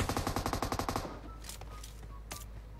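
An M249 machine gun firing in PUBG Mobile: a loud, rapid burst of about a dozen evenly spaced shots lasting one second, then fading into a quieter background with a couple of faint distant cracks.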